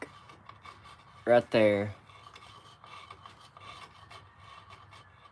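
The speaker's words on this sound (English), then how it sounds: "So we're rubbing this cover." A rough rasping rub of a moving part scraping against a cover runs continuously at moderate volume under a steady low hum, with a short spoken phrase partway through.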